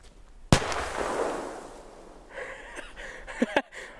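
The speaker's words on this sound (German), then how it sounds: "Und das war tatsächlich ein Rohrkrepierer" Firework shell bursting in its mortar tube during a pyrotechnics outing in the Czech Republic: one sharp close bang followed by a long hissing, crackling wash, then a few smaller pops and crackles near the end.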